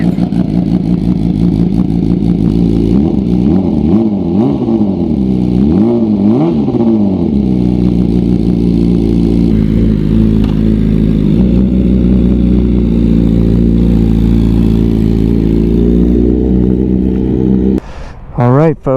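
A carbon BMW M1000RR superbike revs repeatedly, its exhaust rising and falling in rapid swells before settling into a steady throaty drone, with a voice audible at times.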